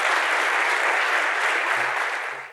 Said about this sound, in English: let's give Lydia and Nimesh one more round of applause